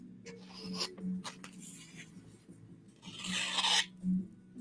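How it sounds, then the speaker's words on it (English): A knife blade scrapes across 150 and 400 grit sharpening stones in irregular strokes, each a short gritty rasp, with quieter pauses and one longer, louder pass near the end. "I've just been sharpening with a 150 grit this profile, a 400 grit to finish."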